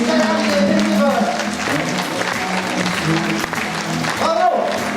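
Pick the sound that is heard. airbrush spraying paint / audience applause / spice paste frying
audience applause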